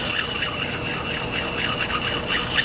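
Hatchet blade rubbed with the rough side of a Lansky puck sharpener, a steady close rasping scrape in repeated strokes with no pauses and no talk.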